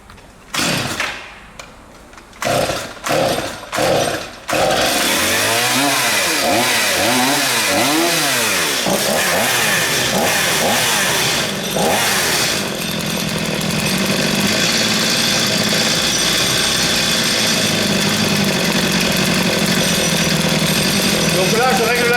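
A two-stroke chainsaw engine, pulled several times as separate short bursts, then catching and revving with rising and falling pitch before settling into a steady loud idle while the carburetor's L screw is adjusted; someone talks briefly over it.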